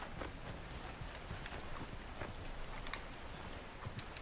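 Horse hooves clip-clopping at a steady trot in the video game Red Dead Redemption 2, a continuous rhythm of close hoofbeats over a dense outdoor background with no talking.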